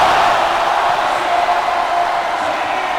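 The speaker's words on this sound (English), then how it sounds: "Brandon Rosser electrifying the crowd here in Caloocan" Arena crowd at a basketball game in Caloocan roaring and cheering right after a slam dunk, a dense, sustained wash of voices at steady loudness throughout.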